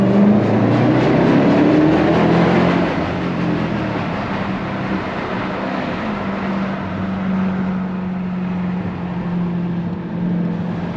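Dodge Durango Hellcat SUV engine roaring with the window open in a tunnel-like passage, a loud sustained rev at first that settles into a steady, droning exhaust note with rising pitch sweeps.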